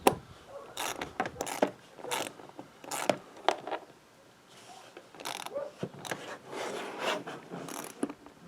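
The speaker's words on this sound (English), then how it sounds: "I went to just using a ratchet and the Allen wrench, so I didn't bugger up the finish on the screws" Ratchet and Allen wrench driving screws to fit fender flares on a Polaris RZR, giving bursts of quick clicking ratchet strokes separated by short pauses, close and fairly quiet.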